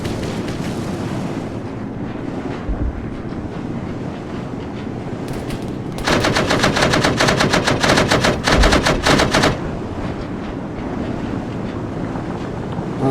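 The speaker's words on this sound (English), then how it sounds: "gun run, missile run coming in." Aircraft gun run and missile strike in the Arma 3 video game, a continuous roaring wash of wind and engine with a dense burst of rapid automatic cannon fire in the middle, loud and sustained.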